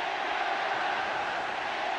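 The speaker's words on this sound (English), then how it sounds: "An incident which has brought the crowd to life" Stadium football crowd at Wembley during an England versus Italy international, a steady broad roar of many voices sustained throughout, dense and even with no pauses.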